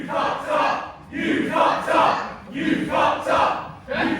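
A wrestling crowd at a match between Stephen Wolf and Jordan Saeed chants in rhythm, loud swells of many voices rising and falling in about four repeated bursts.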